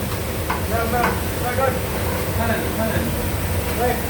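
Spices and asafoetida dropped into very hot oil for muri masala, frying with a steady loud sizzle and hiss, overlaid by scraping stirring and a voice talking over it.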